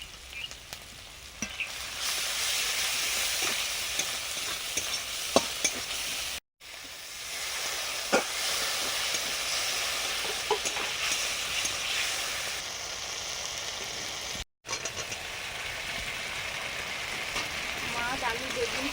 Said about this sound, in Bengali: মাছ আলু বেগুন সব একসঙ্গে দিয়ে দিলাম